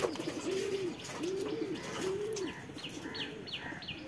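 Several local pigeons, including lakka and king pigeons, cooing nearby on a rooftop, three clear low rolling coos followed by softer, higher calls, with faint background rustle.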